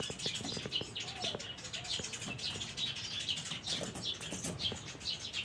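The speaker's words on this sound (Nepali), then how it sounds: "जंगलमा चराहरु के साह्रो कराको" Forest birds call loudly and continuously, with dense overlapping chirps and tweets forming a steady chorus and a few louder nearby notes.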